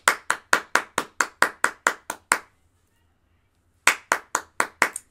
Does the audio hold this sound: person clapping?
yes